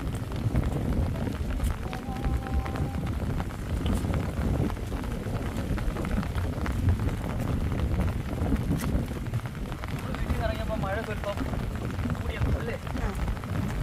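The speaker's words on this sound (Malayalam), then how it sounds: "മഴയുണ്ട്, കാറ്റുണ്ട്" Steady wind and rain hiss outdoors, a dense continuous wash with low rumbling gusts and a few faint chirps in the background.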